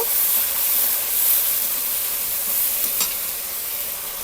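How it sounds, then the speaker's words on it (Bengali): Onion paste sizzles steadily in hot oil in a pan while being stirred for a Bengali fish curry, a continuous hissing fry with a few soft scraping touches and no talking. "বাটা দিয়ে ভালোভাবে কষিয়ে নেব।"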